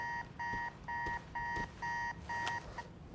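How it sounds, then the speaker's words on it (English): An alarm clock rings in the Marvel's Spider-Man 2 video game, giving six even bursts of a bright electronic beeping tone with short gaps between them, loud and close, with no talk over it. "Okay, shut the alarm up."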